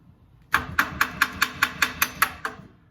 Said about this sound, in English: tap it with a hammer here